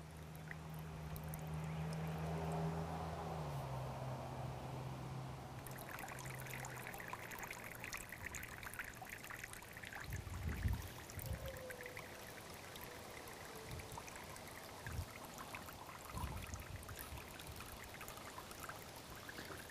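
Water trickles and drains slowly through regular potting soil in a bonsai pot, making a soft, continuous close-up trickle with scattered faint drips and low thumps.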